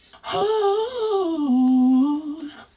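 A single sustained, sung-like voice pitched unnaturally low, gliding slowly downward and holding a deep tone, with a processed, formant-shifted timbre.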